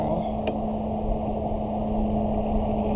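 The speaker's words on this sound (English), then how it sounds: "you'll have to excuse the noise. We got jet skiers going up and down, up and down." Jet skis running up and down on the water: a steady, distant engine drone and hum continuing throughout, with no clear rise or pass-by.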